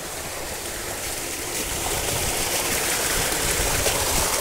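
Water gushing steadily from a 3 hp solar-powered 4x4 irrigation pump under a cloudy sky, a continuous close rushing splash that swells slightly louder toward the end, with no talk over it.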